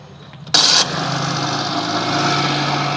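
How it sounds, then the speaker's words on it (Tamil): A Maruti Alto car's engine cranks briefly on the self starter motor, catches with a loud burst and settles into a steady close idle. "வண்டி வந்து ஸ்டார்ட் ஆகிடும்"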